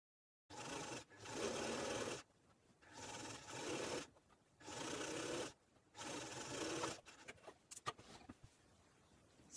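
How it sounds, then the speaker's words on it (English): A sewing machine stitches fabric scraps onto lining fabric in five steady whirring runs, each a couple of seconds long with brief stops between, followed by a few softer clicks and handling sounds. "Now when we stitch along there on the machine, should be able to open that out and it'll meet our lining fabric."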